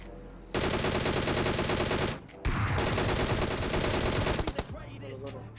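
Automatic gunfire in the mobile battle royale game PUBG Mobile, two long sustained bursts of rapid machine-gun shots with a brief gap between them, loud and dense, followed by a few scattered shots.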